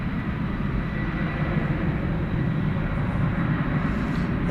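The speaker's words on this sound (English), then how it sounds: "here goes flight 755, an A300 to Chicago Rockford International Airport" An Airbus A300 jet, flight 755, departing DFW Airport at night, a steady loud low engine roar throughout with no voices.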